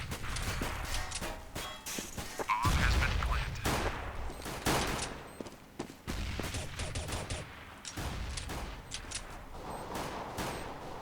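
Rapid bursts of Counter-Strike gunfire on the Cache map during a professional match, sharp repeated shots in quick clusters with brief gaps between volleys and a commentator talking over them.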